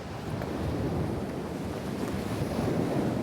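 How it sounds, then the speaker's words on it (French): Strong wind buffets the microphone while rough, choppy ocean waves churn along the Siberian coast in a steady, loud, unbroken roar with no voices. "Il y a du vent et l'océan est agité."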